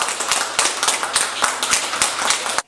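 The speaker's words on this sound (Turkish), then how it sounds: "Hastalığı yenen yurttaşlar alkışlarla taburcu ediliyor." Clapping as recovered coronavirus patients are discharged from a hospital in Turkey, a small group beating out a rhythmic, fairly loud, close clap for several seconds before it cuts off abruptly.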